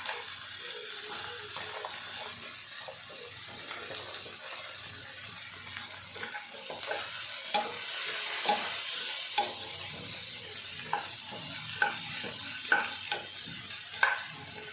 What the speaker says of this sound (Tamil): பாவைக்காய் நல்லா க்ளீன் பண்ணி கட் பண்ணி வச்சுருக்கேன், போட்டுக்கிடலாம்.